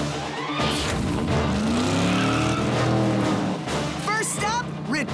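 A cartoon hydraulic flatbed truck drives off with a long rising tire squeal and a revving engine that fills the whole moment, and a voice briefly cuts in near the end with a few quick chirps.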